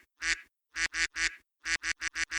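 A soundboard duck quacks eight times in quick, loud bursts, with short gaps between them. The calls come in uneven groups and no one speaks over them.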